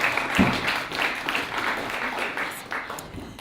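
Audience members at a historic women marker event applaud a speaker, a modest, somewhat distant round of clapping that swells early and then slowly thins toward the end.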